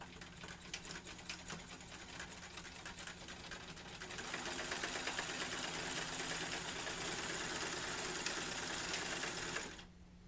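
A sewing machine runs back-and-forth stitching along a blanket border. Short bursts of clicking come first, then a longer continuous whirring run that stops abruptly near the end, heard close and fairly quiet.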